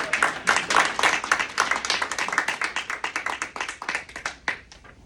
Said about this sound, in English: All right, clap it up for yourself.